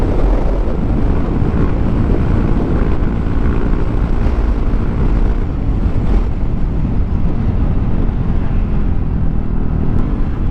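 Yamaha NMAX Techmax scooter fitted with a TSMP center spring, ridden steadily below full throttle, giving a loud continuous engine drone heavily mixed with wind rush across the microphone, with no talking.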